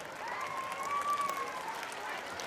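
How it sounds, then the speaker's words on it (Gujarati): An audience at a school costume event for kindergarten to fourth-grade pupils claps steadily for the small children. The applause is faint and distant, with a thin whistling tone above it. "નાના બાળકોના ઉત્સાહમાં વધારો કરવા માટે તાળીઓ તો પાડવી પડે"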